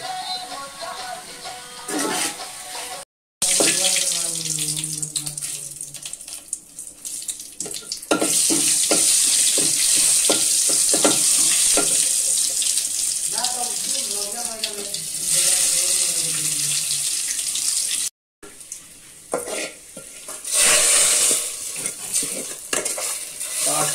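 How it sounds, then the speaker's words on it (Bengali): Potatoes tipped into a pan of fried onions sizzle loudly and steadily, with repeated scraping and stirring of a utensil against the pan throughout; a brief tap-water rush also appears. "এই যে আলুটা এখন দিয়ে দিই, পেঁয়াজটা ভাজা হয়ে এসেছে"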